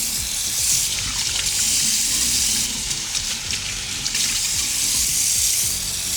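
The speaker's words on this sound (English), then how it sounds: "I'm really washing my face for you guys." Water runs from a tap into a sink as a face is washed, a continuous splashing gush with irregular splashes and no talking.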